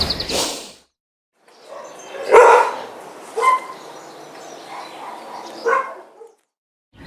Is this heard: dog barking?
yes